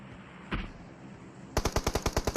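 Gunfire in PUBG Mobile on the Vikendi map, with one isolated shot followed by a rapid automatic burst of about ten sharp reports, loud and close with no talk.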